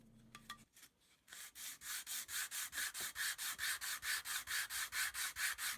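Knife blank for a file knife sanded by hand on sandpaper laid over a flat diamond plate, a steady run of rhythmic back-and-forth scraping strokes, close and loud, after a few light knocks.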